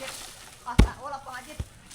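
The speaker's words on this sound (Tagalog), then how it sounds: "Alam ko yung tunog ng buko." Two heavy chopping thuds as a young coconut is hacked open, the first a solid whack and the second a lighter knock, with people talking underneath.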